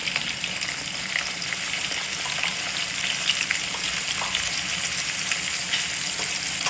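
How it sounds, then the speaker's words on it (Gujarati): Chopped garlic with a pinch of asafoetida sizzles steadily in hot oil for a tempering, a loud, continuous crackling fry that holds even throughout with no talking. "જો કેવું સરસ લસણ શેકાય છે."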